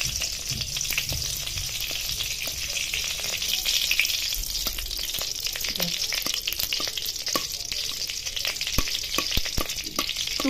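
Grated coconut roasting in ghee in a pan for coconut barfi, a continuous loud sizzle with frequent scraping strokes of a spoon as it is stirred steadily throughout.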